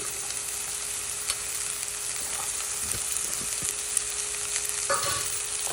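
Cabbage and chopped vegetables sautéing in a pan for veg fried rice, a steady moderate sizzle with occasional scraping and clinking of a spatula stirring, close and without speech.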